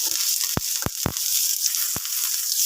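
Onion, garlic and ginger sizzling in a hot frying pan, a steady bright hiss broken by several sharp pops and crackles, close up with no voices.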